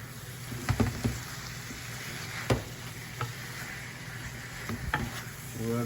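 Saltfish and vegetables frying in a pan for Jamaican ackee and saltfish, a steady low sizzle broken by a few sharp clinks and stirring knocks.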